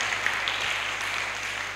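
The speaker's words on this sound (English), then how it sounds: "Let us clap for our Archbishop." Audience applauding an Archbishop at a diocesan priests' and religious recollection in Srikakulam, a steady wash of many hands clapping at moderate loudness throughout, with no pauses.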